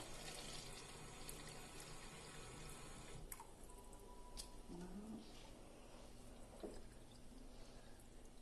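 Water runs and splashes into a silicone container to mix alginate powder for an ear mould, a steady faucet-like pour with a few drips, close and fairly quiet.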